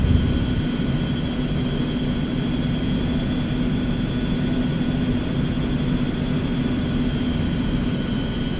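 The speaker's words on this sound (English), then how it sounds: "fun listening to these engines." Eclipse 550 jet engines in X-Plane 11 give a steady, continuous whine and roar while the aircraft taxis, with a constant tone and no voices over it.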